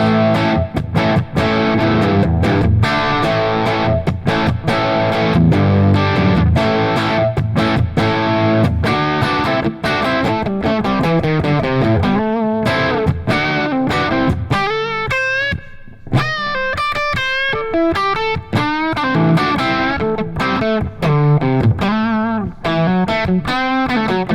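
An electric guitar plays through a REVV D40 Dynamis amplifier with a driven, distorted tone. Chords and single-note riffs run continuously and loud, with no talking.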